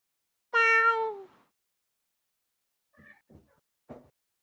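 A cat lets out one loud drawn-out meow up close, then after a pause makes a few short, quieter chirps and clicking noises.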